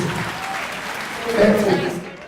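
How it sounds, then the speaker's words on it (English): A crowd at a professional boxing event applauds both fighters after the bout, a steady close wash of clapping that swells midway, with a voice briefly heard over it. "A round of applause for both fighters."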